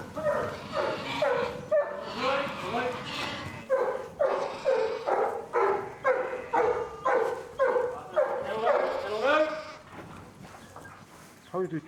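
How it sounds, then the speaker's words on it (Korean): Sheepdog barking repeatedly on a New Zealand farm while herding sheep into a pen, loud rhythmic barks mixed with bleating from the flock, with a voice talking over it. "개 짖는 소리와 함께 양들이 질서 있게 축사로 들어온다."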